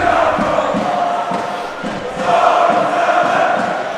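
A crowd at a Division I grand final chants and cheers in a rhythmic, swelling song, loud and massed, rising again toward the end.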